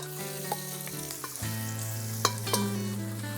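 Small pieces of smoked pork fat (salo) frying in a cauldron, a steady close sizzle with occasional sharp pops and spatters as the fat renders, alone without voices.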